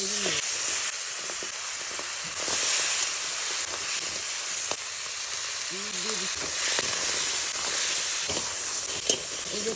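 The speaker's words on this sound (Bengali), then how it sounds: "এখন ভেজে নিচ্ছি কাঁকড়া গুলো।" Crabs frying in oil in a village kitchen, a continuous hissing sizzle with occasional crackles and brief bursts of talk over it.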